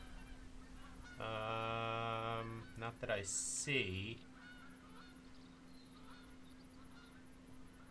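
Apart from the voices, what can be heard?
geese honking in a hunting video game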